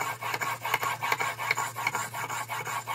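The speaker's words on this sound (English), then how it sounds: "Now we're gonna move up in grit. So now we've got a piece of 800 grit." A broadhead bevel is drawn repeatedly across 800 grit sandpaper, producing quiet, rhythmic rasping strokes about four per second, close and steady with no voices.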